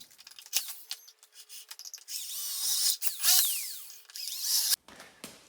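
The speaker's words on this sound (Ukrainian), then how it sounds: "з цієї сторони нам потрібно іменно посередині знайти центр і висверлити дві дирки" A power drill whines close by as it bores holes into the center of a part for a linear wall light. The loud, steady drilling is broken by brief pauses and rubbing scrapes.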